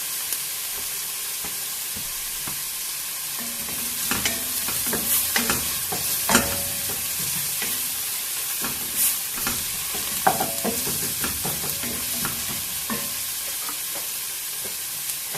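Onions fry in a pot as the base for a shrimp soup, giving a constant bright sizzle and hiss. A utensil stirs the pot now and then with sharp clinks and scrapes, and nobody speaks.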